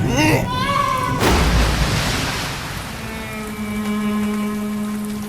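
Steady rain hisses across the scene, with a voice and tonal background sounds layered over it.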